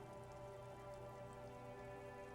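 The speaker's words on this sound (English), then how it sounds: "Rain falls down on the world." Steady rain falls in the video game Disco Elysium, an even, continuous patter with a faint hum beneath and no variation throughout.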